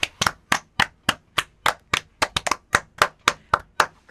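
Hosts of a Busan indie music radio show clap together in the studio, a steady run of about fifteen crisp, close claps over four seconds with no talk.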